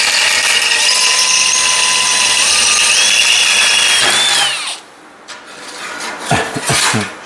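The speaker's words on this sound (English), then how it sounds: "Same size drill bit, hopefully it's sharper." A power drill fitted with a sharper bit of the same size drills a hole through thin metal house-number stock, a loud close whine rising in pitch before cutting off, followed by a few metallic clatters and knocks.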